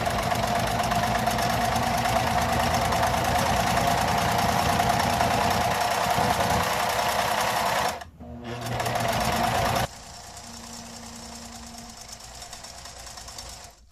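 A sewing machine stitches fabric panels for a welding hat, running steadily and loudly for about eight seconds. It stops briefly, restarts for a short burst, then settles into a quieter hum.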